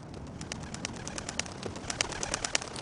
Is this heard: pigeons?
yes